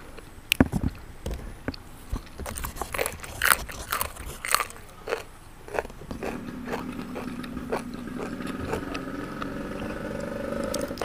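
Crunchy chewing and biting on Isan-style mushroom curry made with amanita (ระโงก) mushrooms, eaten with sticky rice and fermented-fish chili dip, heard close as a series of sharp bites, then a steadier low crunching with faint background hum.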